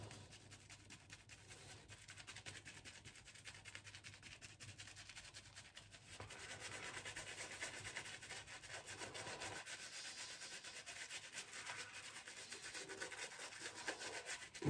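A shaving brush lathers cream across a face with a steady, soft bristly rubbing that grows a little fuller and denser partway through, close by and with no talking.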